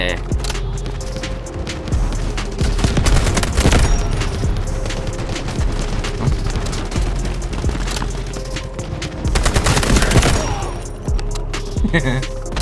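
Rapid gunfire from a SCAR-H rifle in the shooter game Delta Force, with dense bursts and booming shots that swell around the middle and again near the end over constant battlefield noise.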